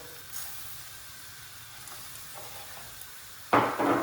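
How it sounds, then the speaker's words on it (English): Rice dropped into a pan of melted bone marrow and golden onion for risotto alla Milanese: a quiet, steady sizzle, then a loud hissing rush as the grains hit the hot fat near the end. "When the midolla is melted and the onion has a gold color, we can add our rice to toast."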